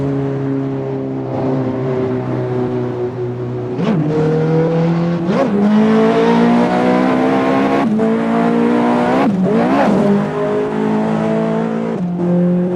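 A car engine revs up and down repeatedly with sharp gear-shift dips, a loud, continuous racing-game engine roar with no talk.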